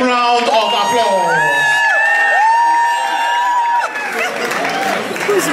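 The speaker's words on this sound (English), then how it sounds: "Let's put our hands together for Mrs. Johnson, the mother of the groom." Wedding guests cheer, whoop and clap loudly for the groom's mother at a white wedding, a dense crowd roar with shouts rising over steady applause.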